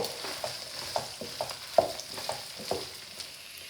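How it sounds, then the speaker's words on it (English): Carrot, zucchini, celery and mushrooms cooking in a pan for spaghetti bolognese, stirred with repeated soft scraping strokes in an uneven rhythm over a low, quiet sizzle. "Now the carrot goes in and the zucchini. And give it a nice stir."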